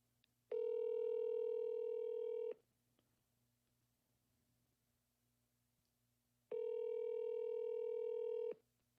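Outgoing phone call ringback tone: two long, steady ringing tones about two seconds each, separated by a roughly four-second quiet gap, clean and moderately quiet.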